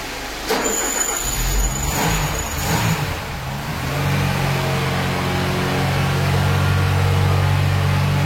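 A Ford Scorpio 2.0 GL engine, long unused, cranks and catches, then settles into a steady, loud idle with a rising rev, close by.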